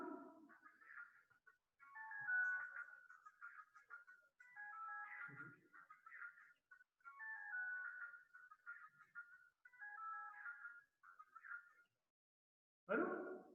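A phone ringtone plays a repeating electronic melody in bursts with short pauses, moderately faint in a quiet room, before a voice briefly answers at the end.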